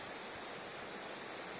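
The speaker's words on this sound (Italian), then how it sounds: "come scorre quest'acqua del fiume Pioverna" Swollen Pioverna river rushing past, a continuous even hiss of flowing water heard up close and alone for a short stretch.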